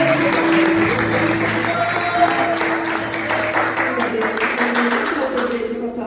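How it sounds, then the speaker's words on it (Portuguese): Congregation clapping hands in praise during a women's church service, steady rhythmic claps blending with music and singing voices in a reverberant room, sustained and fairly loud throughout. "Louve ao Senhor com as palmas, irmãos, em nome de Jesus."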